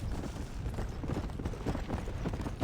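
Horse hooves clip-clop in the zombie game Red Dead Redemption: Undead Nightmare, a steady rapid trotting rhythm over a dense rumbling game background, moderately loud, with no talking.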